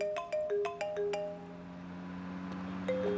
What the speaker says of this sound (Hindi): सर, साहब की वाइफ का फोन है,